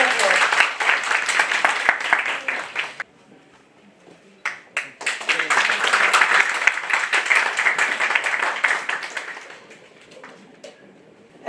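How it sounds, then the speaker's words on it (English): Applause from a seminar audience during an award presentation, two bursts of many hands clapping, a brief lull between them, then fading toward the end, with some speech over it. "With a huge round of applause."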